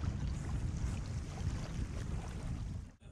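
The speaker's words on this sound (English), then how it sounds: "It's quite a strong southwesterly wind, keeps picking up and dropping off." Strong southwesterly wind buffets the microphone with a steady roar on the Menai Strait coast in Anglesey, North Wales, rising and falling slightly before cutting off near the end.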